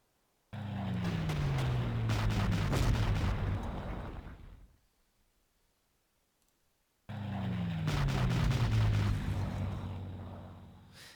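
Attack bombers striking in the World War II strategy game Panzer Corps, two long loud bursts of rumbling explosions and crackling gunfire, each lasting several seconds, with near silence between them.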